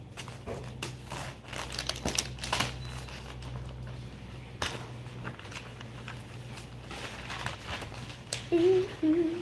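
Paper is shuffled and crinkled during a search for one sheet, with scattered rustles, soft taps and handling noises close by over a faint steady hum, louder crinkling near the end.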